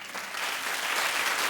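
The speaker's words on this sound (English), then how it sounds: "Keep clapping for Stacy Keibler" Studio audience applause for Stacy Keibler fills the moment with a dense, steady wash of clapping that swells slightly and stays loud throughout, with no talking over it.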